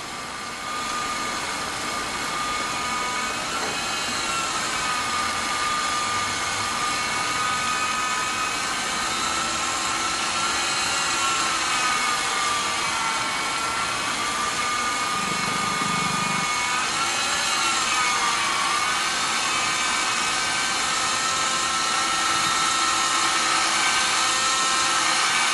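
RC 3D helicopter flying inverted, a loud continuous high-pitched whine and buzz of motor and rotors with slight pitch shifts, close and sustained throughout.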